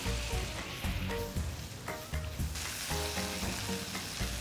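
Shrimp and fresh tomato in a pasta sauce sizzle and fry in a pan while being stirred, a close, steady crackle with soft scraping strokes of the spoon, no voices.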